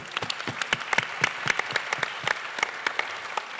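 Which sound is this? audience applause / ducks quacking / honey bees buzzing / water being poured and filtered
audience applause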